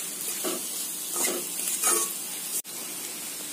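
Masala noodles with salt being stirred in a hot pan: a constant sizzle broken by rhythmic scraping strokes, with one sharp momentary cut in the sound, and no voices.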